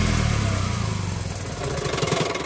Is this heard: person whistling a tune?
no